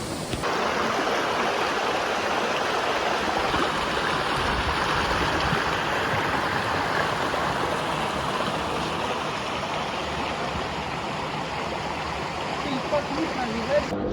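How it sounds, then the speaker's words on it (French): A waterfall in Guadeloupe roars as a loud, continuous wash of falling water, steady and close throughout with no voices. "la cascade est magnifique. Genre regardez, incroyable."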